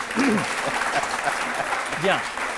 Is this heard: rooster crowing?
no